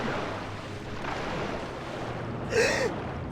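Lara Croft in Tomb Raider Legend drawing a sharp gasp for air on surfacing, one brief breath near the end over a steady wash of water and ambient noise.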